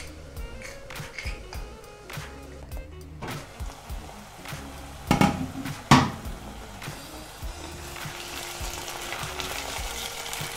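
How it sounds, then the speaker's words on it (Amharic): Oil frying in a pan for Ethiopian qwanta wot, a dried-meat stew, with a steady close sizzle broken by sharp clatters and knocks from stirring and utensils, no voices. "እንደዚህ ሲጠበስልኝ በዘይቱ ማለት ነው"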